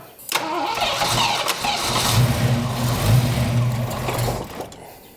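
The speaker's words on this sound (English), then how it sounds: "Let's get this idle lined up so I can run inside and see if it's got oil pressure." A Foxbody Mustang engine fitted with GT40 heads and a B cam cranks and fires, then settles into a loud, rough, lumpy idle close by, running steadily for several seconds.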